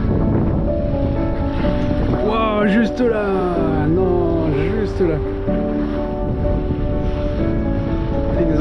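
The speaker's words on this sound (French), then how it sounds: "Ils nous ont fait des vagues partout." Ocean waves and wind wash around a fishing boat out chasing tuna, a steady broadband surge that stays loud throughout, with excited voices talking over it.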